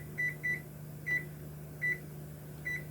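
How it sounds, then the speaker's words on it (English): A kitchen timer is set while a pot boils to clean a burned item, giving a series of short sharp beeps, some doubled, at irregular spacing over a steady low appliance hum. "I'll go ahead and set the timer so we'll know"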